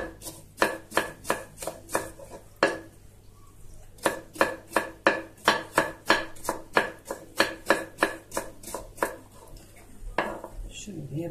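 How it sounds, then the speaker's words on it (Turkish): Knife chopping salad vegetables on a wooden cutting board while making a Turkish spoon salad, steady rapid bursts of close, sharp taps separated by brief pauses, with no voices. "Şimdi bunu da doğrayalım."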